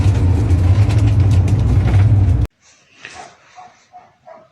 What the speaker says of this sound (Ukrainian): собака гавкает овчарка.